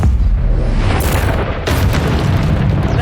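Spell blasts and magical explosions from the Hogwarts Legacy video game, a dense run of loud booming impacts with a sharp burst near the middle and another after it, rumbling on throughout with no talking.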